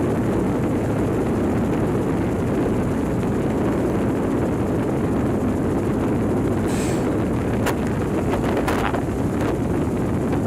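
Helicopter in flight over burned-out wildfire land, heard as a loud, constant rumbling roar with heavy wind buffeting on the microphone throughout, and a few brief higher-pitched sounds near the end.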